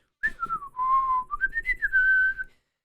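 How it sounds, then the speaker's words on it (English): A single clear whistled tune, close and steady, gliding up and down for about two seconds with no talking. "before you even open the door, you hear some whistling"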